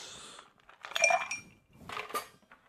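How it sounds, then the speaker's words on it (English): Ice cubes clink into a glass for an Irish Old Fashioned cocktail, two short bursts of close, bright rattling with a pause between. "Going to add a little ice."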